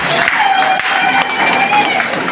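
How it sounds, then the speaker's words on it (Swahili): An audience at a TANESCO Ruvuma workers' day gathering claps for their employer, a dense, steady wash of close applause that carries on without pause. "Kwanza tumpongeze mwajiri kwa makofi na fida."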